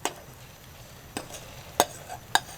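Tricolor pasta being tipped into a sausage and jalapeno mix at an outdoor kitchen, quiet background with four distinct sharp clanks of a utensil against the pan, spaced unevenly.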